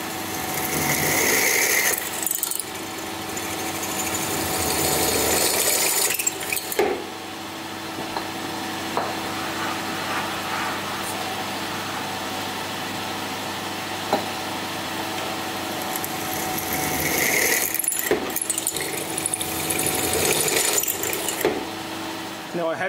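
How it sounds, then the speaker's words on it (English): Steel being drilled with quarter-inch holes on a metric milling machine, producing a steady high mechanical whine with rattling and clicking, louder at the start and end of the run. "I'm currently drilling quarter inch holes all the way through"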